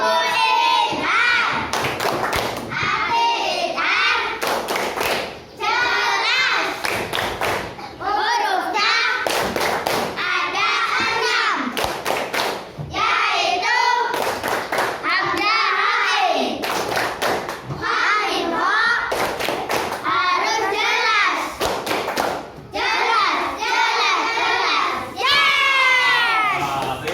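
Children in a Quran and hadith class stand and perform the rhythmic tepuk idhar clapping chant together, with sharp bursts of hand claps in a steady pattern mixed with loud chanting voices throughout.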